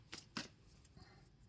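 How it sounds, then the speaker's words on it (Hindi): Tarot cards shuffled by hand, giving two soft, brief papery riffles close by early on, followed by quiet room tone with no talking. "कार्ड्स को मैं शफल कर रही हूँ"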